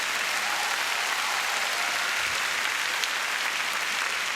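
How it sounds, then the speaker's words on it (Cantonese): A large theatre crowd at a Cantonese stand-up comedy show by Dayo Wong bursts into sustained applause, a dense, even roar of clapping with no pause. "俾啲掌聲佢。"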